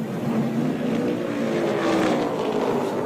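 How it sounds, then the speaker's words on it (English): Richard Petty's number 43 Plymouth race car at a pit stop during the 1966 Daytona 500, a loud, continuous engine roar close by. "There's the Plymouth of Richard Petty, number 43, for a pit stop."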